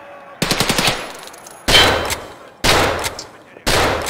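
Video game gunfire comes in four loud, close bursts of rapid automatic shots, each burst separated by a short pause, with no talking over it.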